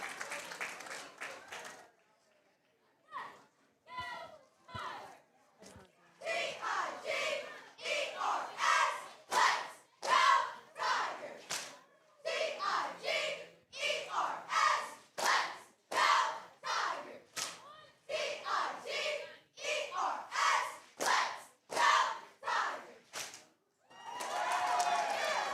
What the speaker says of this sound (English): And that's a display of our cheer team.